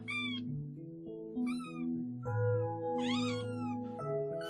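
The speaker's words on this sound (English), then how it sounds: "Kittens meow to say hello or to ask for something" A kitten meows in a series of short, high, plaintive cries with several separate calls over a soft tonal music bed.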